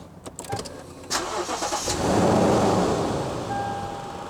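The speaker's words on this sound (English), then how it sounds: "Go ahead and start your vehicle." A Lexus car engine cranks and catches after a few clicks, then settles into a steady idle hum that lingers near and moderately loud.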